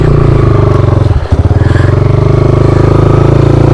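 A 2021.5 GPX FSE250E motorcycle engine runs steadily on a trail, its loud, close, rhythmic thumping continuous apart from a brief dip in the middle, with no talking over it.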